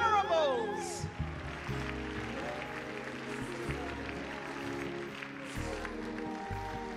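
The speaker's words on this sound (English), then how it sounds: "Let's give a round of applause." A church congregation at a pastoral anniversary Sunday service breaks into scattered clapping and crowd noise, moderately loud in a reverberant hall, with a voice talking over it.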